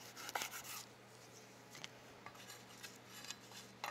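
A knife slices through salami for a calzone, giving a few soft, scraping cuts against a steady low hum, with no talking.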